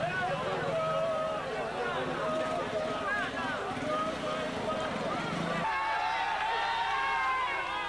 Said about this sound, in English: he's getting a lot of support from the crowd to try to help him through these sections